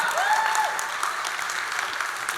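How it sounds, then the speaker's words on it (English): Audience applauding for student presenters at a kids ministry church event, a steady burst of clapping that holds evenly for a couple of seconds with a brief whistle-like tone near the start. "Give them a round of applause, guys."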